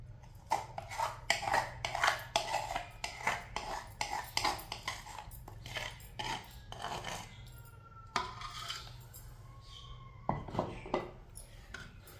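Potato, onion and gram flour mixed in a bowl for pakoras, a spoon clattering and scraping against the bowl in quick irregular bursts with short pauses, close and clear.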